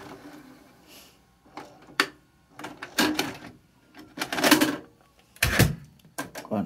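A Panasonic PV-V4524S VHS VCR ejecting a tape: a series of close mechanical clicks, whirs and clunks in separate bursts, with a sharp loud clack near the end.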